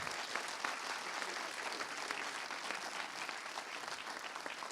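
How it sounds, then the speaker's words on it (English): A conference audience applauds steadily and densely for the full length, a broad continuous wash of many hands clapping at a tech talk, with no voices above it. "can we have a little bit applaud for all the"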